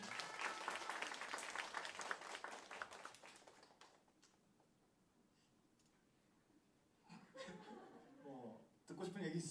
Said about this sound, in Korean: 엔지니어님께 또 박수 한번.